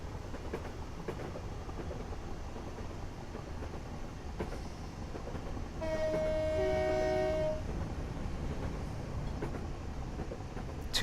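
Train horn in Train Simulator 2018 on the Isle of Wight line sounds one steady toot lasting about two seconds, standing out over the continuous rumble of the train running beneath it.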